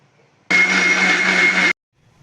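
A kitchen mixer grinds soaked tamarind with water for bitter gourd sambar, starting abruptly and whirring loudly and steadily for about a second before cutting off, with quiet surroundings before and after.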